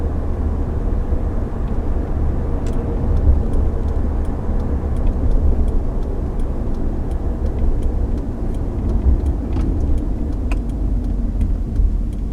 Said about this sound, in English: this engine, it's just so smooth. This is such a smooth engine.